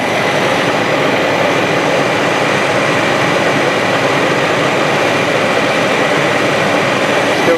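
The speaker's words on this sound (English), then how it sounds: "Idle's a little fast" A 1994 Chevrolet Astro van's engine idles fast with a loud, steady broadband roar heard up close, its drone continuous through the stretch with only slight wavering.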